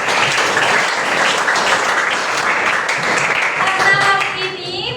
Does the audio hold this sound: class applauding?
yes